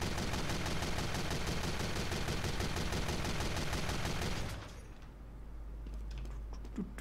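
Rapid video game gunfire hammers at a target in a dense, steady burst of shots that cuts off abruptly, leaving quiet with a few faint clicks.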